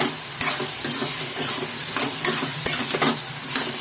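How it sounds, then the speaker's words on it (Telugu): Potato pieces added to onions already frying in a pan for a potato and cauliflower curry, stirred with a spatula: steady sizzle with clacks and scrapes of stirring, close and moderately loud, no speech. "ఉల్లిపాయలు వేగినాక ఇలా బంగాళదుంప వేసుకోవాలి."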